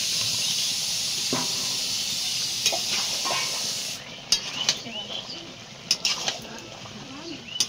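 Potatoes and rendered fat going into a hot pan give a strong steady sizzle and hiss that drops away suddenly partway through. Scattered clinks and clatter from stirring utensils follow, with faint background voices.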